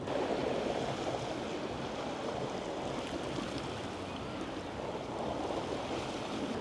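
Sea waves washing onto the beach at Blackpool on a sunny day, a steady, continuous surf roar with light wind, close and fairly loud with no voices.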